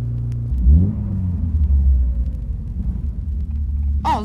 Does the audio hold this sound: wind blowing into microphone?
no